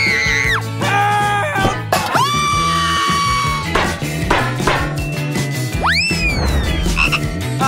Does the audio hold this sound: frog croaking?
yes